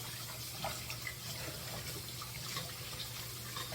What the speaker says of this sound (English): I'm going to wash them, turn my water back on cold.